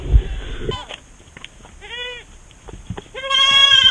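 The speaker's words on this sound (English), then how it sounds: "The goats are out. They're walking around." Goats bleat on an off-grid homestead, a few separate wavering calls, one short and one longer near the end, heard close and fairly loud between quiet gaps with faint background noise.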